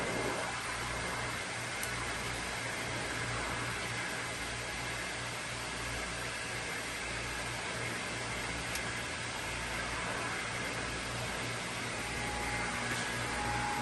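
Boat generator running, a steady loud mechanical drone with constant hum and broadband hiss, unchanging throughout with no talk.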